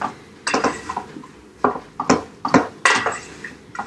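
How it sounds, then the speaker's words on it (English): Browned ground turkey and onion being stirred in a pot, a spoon scraping and knocking against the metal in quick irregular bursts, close and fairly loud, with no talking. "So once the ground turkey or meat of your choice is browned in the pot with the onion"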